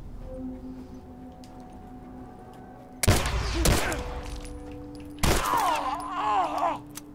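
Gunfire erupts in The Last of Us, with two sharp, loud volleys of shots breaking a quiet game ambience, the second followed by rattling, echoing debris.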